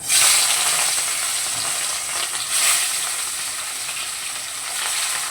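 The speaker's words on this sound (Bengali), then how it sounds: "এবারে আমি মাছগুলোকে ভেজে নেব।" Catla fish pieces fry in hot oil in a wok, giving a steady, close, loud sizzle with brief surges, alone with no talk.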